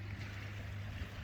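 A returning dive boat's engine drones low and steady in the distance, blended with faint water noise.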